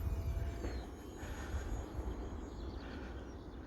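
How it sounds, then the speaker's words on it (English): A model search and rescue plane flies past, its small engine giving a steady droning whine that swells and fades over a few seconds against a low, rumbling outdoor background. "But this is my search and rescue plane."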